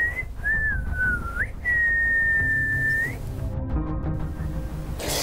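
A person whistles in a room of a house during a spiritual consultation, sliding tones then one long steady note, close and clear, followed by faint background noise.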